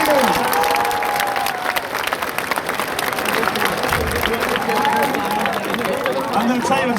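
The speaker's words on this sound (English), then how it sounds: "Give her a huge round of applause." An audience at a talk claps and cheers in a sustained round of applause, with crowd murmur and a few voices mixed into the clapping throughout.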